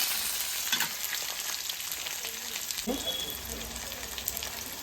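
Chopped onion frying in hot oil for tempering, a steady bright sizzle with a few scrapes and clinks of a spoon in the pan, no talking.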